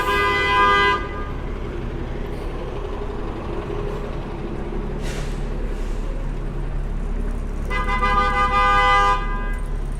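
A bus horn blasts twice on a night street in Queens, New York, one long honk at the start and another near the end, over steady rumbling traffic noise.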